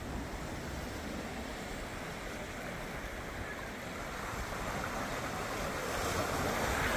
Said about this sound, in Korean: 야 대호야 이 파도 색깔 바다 색깔이 너무 아름다워